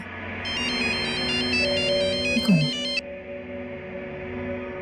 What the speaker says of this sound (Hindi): रीमा का फोन काहे नहीं लग रहा?